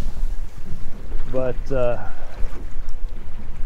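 Strong gusting wind buffeting the microphone on open water during a winter catfish fishing trip, a constant loud roar with a brief spoken word from a man partway through.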